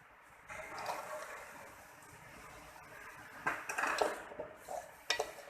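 Vegetables and cabbage tossed and sautéed in a pan, with soft scraping and clinking of a utensil against the cookware, a low steady background, and a few sharper clanks toward the end.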